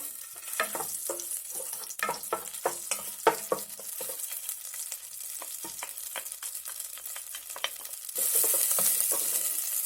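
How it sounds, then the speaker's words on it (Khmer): Dried chilies are stir-fried in a little oil in a pan, a series of scraping, tossing strokes over soft sizzling, then a louder steady sizzle at the end, close and without talk. "ខ្ញុំដាក់ម្ទេសផ្លោកក្រៀមនេះចូល"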